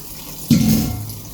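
Tap water suddenly gushing into a kitchen sink during washing up at home, a short splashing rush that starts abruptly, stays loud and close for about half a second, then tapers off.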